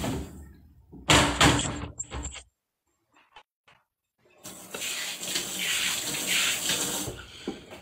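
Tap water runs into a sink while fish is being washed, gushing loudly in bursts at first, pausing, then flowing steadily again at a moderate, close level.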